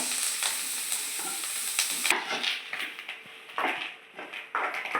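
Pesarattu ingredients sizzle and fry in a pan, a loud broadband crackle with scraping stir strokes, the sizzle dropping in intensity partway through as stirring continues in bursts.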